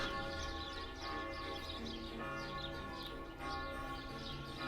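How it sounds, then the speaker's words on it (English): Catholic village church bells ring continuously in the distance just past 3 o'clock, overlapping peals with a few birds chirping faintly in the background. "the church bells of the village I live in are here again"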